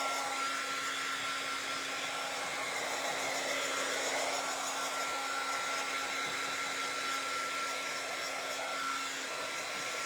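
A dryer blows a constant, loud, steady whooshing roar with a faint tonal hum while drying a freshly painted item, unbroken throughout.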